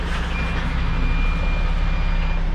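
Truck reversing beeps in a transport video game, a steady repeating tone over a constant low engine drone, loud and close with no talk.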